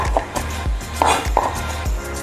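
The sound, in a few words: knife chopping leftover bits of garlic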